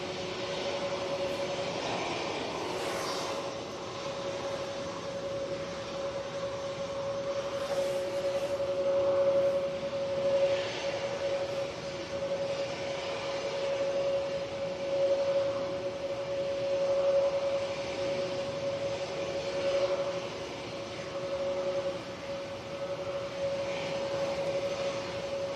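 A Ryanair passenger jet arriving from Derry approaches Manchester Airport on a windy day, a steady distant engine roar with a sustained whine that swells gently and holds for the whole stretch under wind buffeting.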